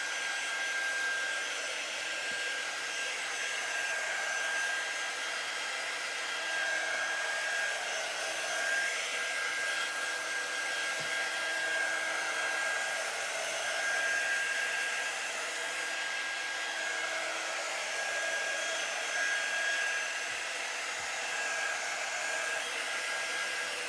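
A quiet hair dryer drying paint runs steadily the whole time, a soft even whir with a faint high whine and no talking.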